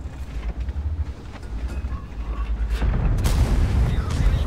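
An E 50 M tank fires its gun in World of Tanks: a heavy boom over a rumbling engine drone, and the loudness swells in the last second.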